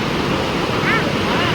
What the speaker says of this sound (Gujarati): તો બહુ પાણી જાય છે